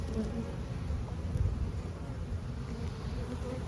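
A honeybee swarm hums during a hive inspection, a dense continuous buzz close to the microphone with faint wind noise underneath.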